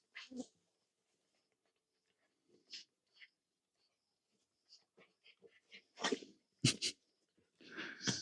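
A few quiet snorts and bursts scattered through near-silence, then a sharp sneeze burst near the end, with scuffling around it.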